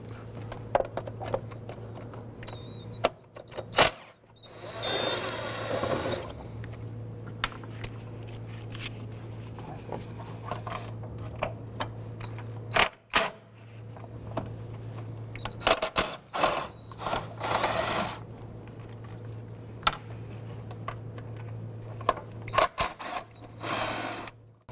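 Ratcheting and clicking of a wrench working the 10mm bolts that hold the ECU on a 2006-2011 Honda Civic, in irregular bursts of mechanical clatter over a steady low hum, with no talk.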